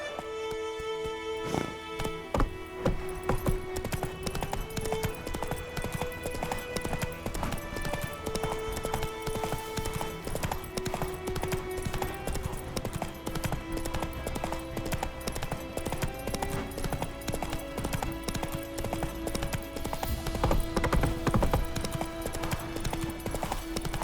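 Roach, a horse in the video game The Witcher 3, galloping: a steady, rapid run of hoofbeats that continues throughout under other game sounds.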